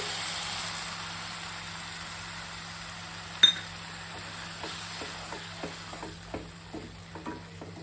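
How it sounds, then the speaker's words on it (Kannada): Tamarind juice poured into hot oil and chilli powder for tomato rasam, giving a sharp clink at first, then soft sizzling with a run of short clicks from stirring, fairly quiet, with no voice. "ಇವಾಗ ನಾನು ಇದಕ್ಕೆ ಹುಣಸೆ ರಸ ಹಾಕ್ತೀನಿ."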